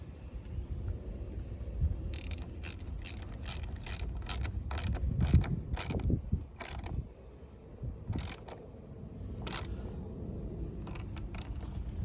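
A ratchet wrench clicks in quick repeated bursts while tightening the positive battery terminal on a Ford F150, close and crisp with brief pauses between runs.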